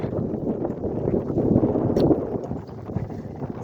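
Strong wind buffeting the microphone, a steady low rumble that swells and gusts throughout.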